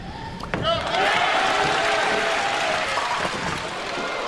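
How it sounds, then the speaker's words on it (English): A crowd at a 1996 PBA National Championship bowling final breaks into loud, sustained applause after a sharp opening thud, the clapping filling the arena with a commentator's voice over it. "So now the applause for the ball return."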